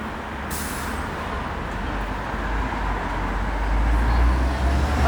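City bus passing on a Moscow street, a low engine rumble amid general traffic noise that swells louder toward the end as it draws near.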